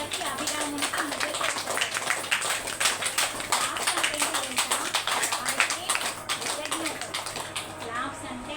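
An audience at a spiritual talk claps for Vemana in crisp, dense handclaps with distinct individual strikes, loud and close, with voices mixed in before easing off near the end.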